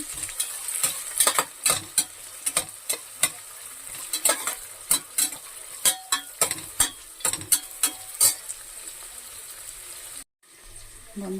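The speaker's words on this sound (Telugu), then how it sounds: "ఇప్పుడు ఇవి బాగా ఫ్రై చేసుకోవాలి ఆయిల్లో" Onion and spices, including stone flower, fry in oil for spinach rice. A spoon scrapes the pan in a brisk, rhythmic series of strokes over a faint sizzle, ending with a short pause.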